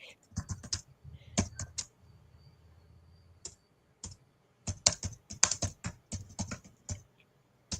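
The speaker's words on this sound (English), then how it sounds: "bangs his keyboard that hard" A computer keyboard is struck hard in fast, loud bursts of sharp clacking keystrokes, close up, with a pause between two flurries of heavy typing.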